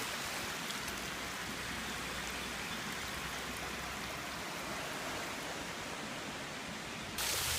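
A waterfall at a fishing spot, a steady hissing rush of falling water that stays constant and fairly loud throughout, with no voices.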